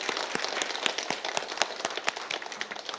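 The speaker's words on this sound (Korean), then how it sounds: "우리 목사님께 큰 박수로 환영의 인사하도록 하겠습니다" Senior church congregation clapping in rhythm to welcome the pastor at a seniors' worship service, a brisk, fairly close run of sharp claps with a steady beat.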